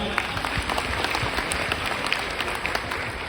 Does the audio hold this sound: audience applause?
yes